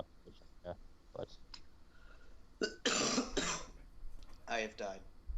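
Someone recovering from an illness coughs during a casual podcast conversation, with a few short bursts of harsh, broadband coughing clustered midway and again near the end, loud and close, mixed in with talking.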